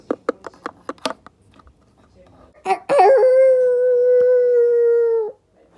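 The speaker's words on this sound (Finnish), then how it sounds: "oliko toi just suden ääni?" A wolf howls outside near a horse stable after dark: one sustained, steady howl lasting a few seconds. It follows a series of sharp knocking clicks and is fairly loud and clear.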